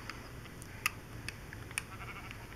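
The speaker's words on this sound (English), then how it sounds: "It's a sheep. I see the sheep." Faint, brief sheep bleats from the Minecraft video game sound a few times over a quiet background, with no talking.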